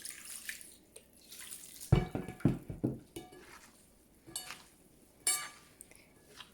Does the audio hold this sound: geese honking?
no